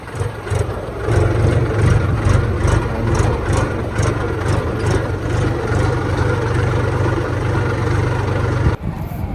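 A heavy tractor engine idles nearby with a low, steady chugging rumble and regular pulsing beats, then cuts off abruptly near the end.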